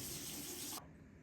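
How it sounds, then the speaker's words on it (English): Water runs steadily from a bathroom sink tap in a continuous hiss, then the flow is cut off abruptly, leaving a quiet room. "I like to do this under running water."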